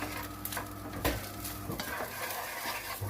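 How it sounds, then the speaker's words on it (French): Seasoned food is stirred in a hot pan, soft scraping strokes over a continuous low sizzle, close and fairly quiet. "On remélange."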